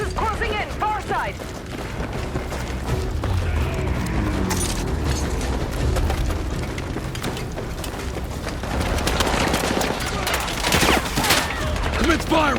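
Sustained gunfire bursts and explosions from a night raid in the Battlefield 6 campaign, loud and dense throughout with mechanical clatter and crashes, under intermittent shouted voices.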